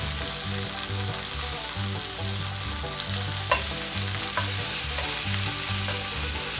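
Beyond Meat sausage sizzles and crackles loudly in a hot pan, a steady close frying hiss with occasional sharper pops and a low hum underneath, no voices.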